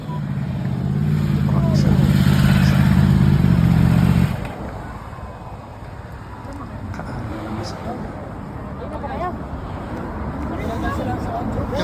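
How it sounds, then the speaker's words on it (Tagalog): Loud motorcycle engines roar past for the first few seconds, then fade to a distant road rumble with voices talking over it. "Mga motor."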